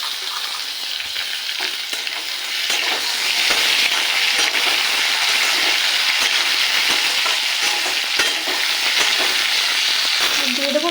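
Chopped tomato sizzles loudly in hot oil in a pan while cooking matar ghugni, a dense continuous frying hiss with light stirring scrapes throughout.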